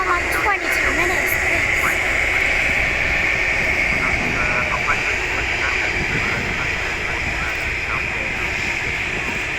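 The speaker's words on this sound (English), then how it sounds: "Also Turkish Airlines that's taxiing." A Turkish Airlines airliner taxiing at Manchester Airport, a steady loud jet engine whine and roar held throughout, with a voice talking over it.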